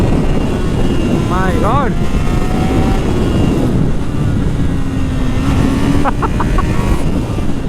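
A 2021 Honda CB650R motorcycle accelerates hard in first gear, its engine pitch climbing in two quick surges under wind rush, while a rider exclaims briefly.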